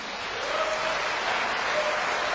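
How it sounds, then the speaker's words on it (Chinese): Applause from a symphony concert audience greeting the Central Conservatory of Music Symphony Orchestra, a steady, dense wash of clapping that holds evenly throughout without a break. "我们掌声欢迎。"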